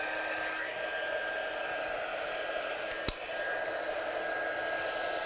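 A heat gun blows hot air to heat-set stamped ink on a papercraft banner. It gives a steady, close airy roar with a mechanical hum, broken by one sharp click partway through.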